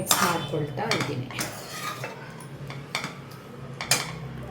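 A spoon clatters and scrapes against a metal pot while ingredients for a jackfruit sambar are mixed. The irregular metallic clinks are close and fairly loud, with quiet background between strokes.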